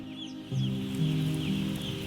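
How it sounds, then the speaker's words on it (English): Broiler chickens in a crowded Australian farm shed keep up a steady, dense clucking and droning murmur, with a few louder clucks standing out, continuous and fairly loud, with no speech. "there were 530 broiler farms in Australia, together housing at any given time a total population of around 90 million birds"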